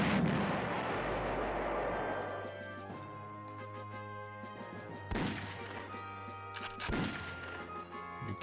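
Artillery shelling of an enemy artillery piece in the PlayStation strategy game Panzer General: a loud opening blast fades into a low rumble, then two more sharp booms land near 5 and 7 seconds, with no talking.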